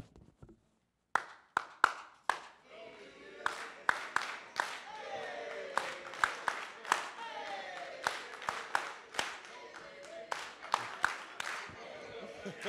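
Staff members clap in a loose, uneven round of applause, sharp separate claps at first that build into steadier clapping, with voices talking underneath.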